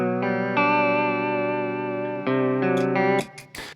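Electric guitar played through a TC Electronic Corona Chorus pedal set to a single-voice chorus, sustained chords shimmering with a gentle, traditional wavering modulation, ringing loud and alone before the final strums fade out.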